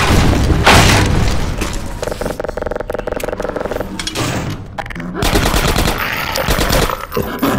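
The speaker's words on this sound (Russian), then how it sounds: "Выстрел!" Bursts of gunfire and booms from the shooter game Half-Life 2 Episode 1, rapid machine-gun rattles and heavy blasts, loud and dense across the stretch.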